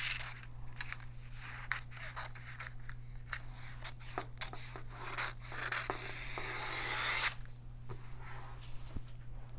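Paper edge trimmed during printer setup: quiet, uneven scraping and snipping strokes close by, with soft rubbing noises and a low steady background hum.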